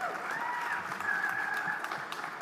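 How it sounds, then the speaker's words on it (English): Audience clapping at a panel discussion on climate finance in Africa, a moderate, continuous patter lasting a couple of seconds, with a sustained tonal hum running beneath the claps. "Give it a round of applause for Vanessa as well"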